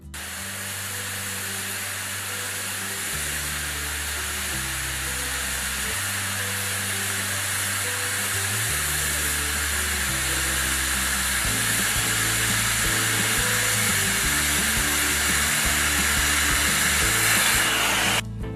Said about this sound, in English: you shall be able to bevel the plate edges by gas cutting for single V